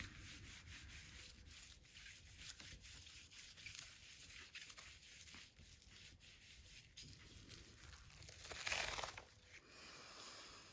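Ink being rubbed by hand onto embossed paper for a background makes steady, soft, close scuffing and rubbing strokes, faint and continuous, with a slightly louder brush of friction near the end.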